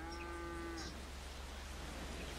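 A cow lets out a single drawn-out moo in a GTA V police-mod game, heard clearly over a steady low rumble of ambient noise before fading into background hiss.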